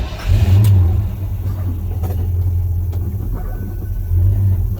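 A 1979 Ford Ranger pickup engine on a test drive gives a loud, steady low rumble that swells briefly at the start and again near the end, with no voices.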